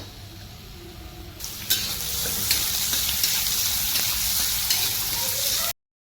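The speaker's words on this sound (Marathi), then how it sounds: "चला आता याला फोडणी टाकूया. मोहरी, जिरे," Mustard seeds and cumin crackle in hot oil for a tempering. A sudden burst of close sizzling starts and holds steady with scattered pops, then cuts off abruptly.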